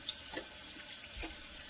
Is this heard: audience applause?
no